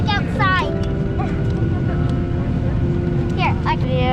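Constant droning cabin noise of an airliner in flight, a loud steady engine and air roar filling the background while people talk over it.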